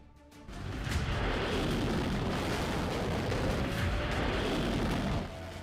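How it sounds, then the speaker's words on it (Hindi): A loud, sustained rushing roar like a rocket launch, rumbling steadily for several seconds before abruptly dropping away. "मिसाइलें फायर, निशाना साधा गया और धमाका हो गया।"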